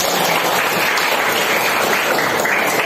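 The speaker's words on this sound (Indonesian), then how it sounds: "Tepuk tangan." A classroom of students gives loud, continuous applause, a thick even patter of many hands that stays steady and close for the whole stretch.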